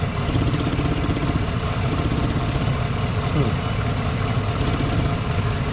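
A 2016 Chevrolet Silverado truck engine idles with a constant low rumble and rhythmic chug throughout, close and unchanging; no talking.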